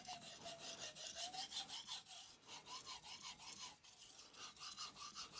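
A Shirogami carbon-steel nakiri is rubbed back and forth on a wet Japanese natural sharpening stone, Amakusa or Tanaka Kyoto, in a steady close scraping rhythm of rapid strokes with no talk.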